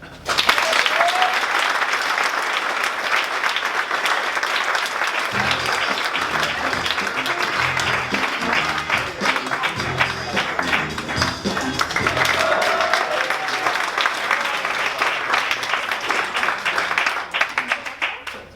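Enthusiastic audience applause greeting a performer at a comedy and song show, sustained loud clapping with some crowd noise, dying away at the end.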